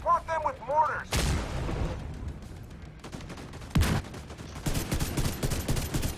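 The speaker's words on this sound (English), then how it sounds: "Fire at their position. Support them with mortars." Mortar fire in The Division 2 video game: a voice line, then several heavy booming impacts with sharp cracks and rumbling tails, spaced irregularly amid ongoing battle noise.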